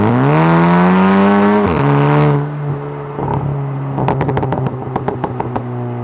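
An MK7 VW Golf GTI with a Miltech downpipe and the stock catback revs up loud and close, holds, then drops off into a string of sharp exhaust pops and crackles as the revs fall.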